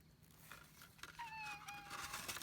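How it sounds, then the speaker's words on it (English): A barn cat gives a single drawn-out meow, close and clear over faint background noise. "This is our little kitty who lives in the barn."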